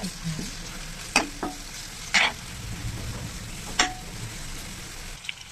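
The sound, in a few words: stirring green chili, ginger garlic paste, turmeric in oil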